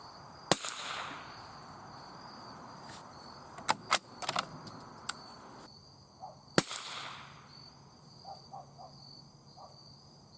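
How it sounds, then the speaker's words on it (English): Rifle firing Remington Target .22 LR ammunition outdoors, with several sharp, fairly quiet cracks spread across the stretch over faint insect chirping. "Here's the first shot."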